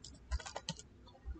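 Typing on a computer keyboard, a few faint, quick key clicks in a short irregular burst, close and quiet with no talk.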